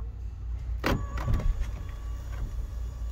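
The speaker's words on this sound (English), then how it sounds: "Also standard power sunroof." A power sunroof on a Honda CR-V opens with a short, quiet electric motor whir and a faint click inside the cabin, heard alone against low road-like rumble.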